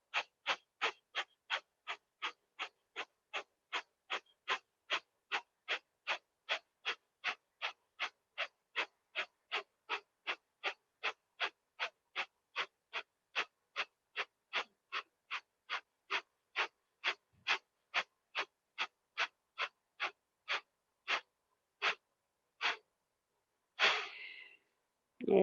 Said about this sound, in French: On commence avec les respirations de fond. Inspirez, relâchez l'abdomen.